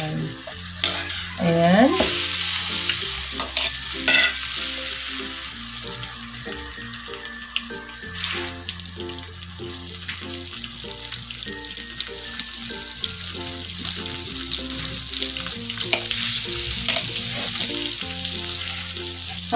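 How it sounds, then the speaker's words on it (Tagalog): Butter melting with garlic in a hot pan, with onion added, sizzles steadily under stirring and utensil scrapes, along with tonal kitchen clatter and a possible tap running; a voice says one short word at the start. "Habang pinapatunaw natin ang butter, lagay na natin yung ating bawang."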